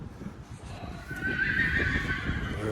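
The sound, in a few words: Friesian horses neighing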